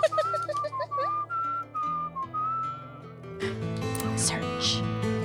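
Melodic human whistling in the video game Where the Water Tastes Like Wine, a run of short rising notes and then held tones over a low steady drone, with fuller tonal music swelling in near the end.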